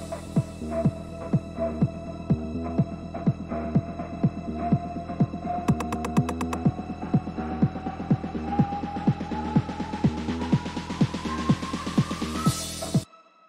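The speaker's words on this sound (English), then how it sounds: "have the very end of the sample kind of slowly increase pitch until at the very end it's up a whole octave" A looping, throbbing tech house sample repeats in a steady rhythm while its pitch slowly rises a full octave toward the end, then cuts off abruptly.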